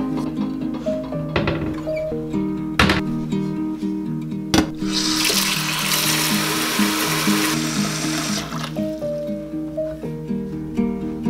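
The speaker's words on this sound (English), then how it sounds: "I simply fill a large pot with water" Tap water runs into a large pot for an autumn simmer pot, a loud broadband gush that builds for a few seconds, set among clinks and kitchen clatter with a steady background hum.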